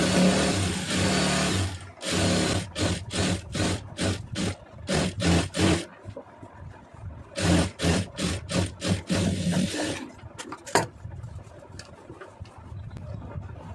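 A sewing machine stitches a round neckline in short bursts of rapid clatter separated by brief pauses, close and fairly loud, with a few small clicks and handling noises near the end.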